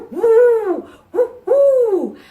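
Owls hoot in a children's song, sung as three loud, clear, drawn-out wavering hoots with a short one between, close and alone with no talk.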